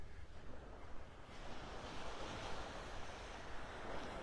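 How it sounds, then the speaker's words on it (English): Ocean surf at Vanderbilt Beach in North Naples, Florida, is a continuous broadband wash of waves mixed with wind noise across the microphone, steady and fairly distant with no voices. "there's Vanderbilt Beach down there"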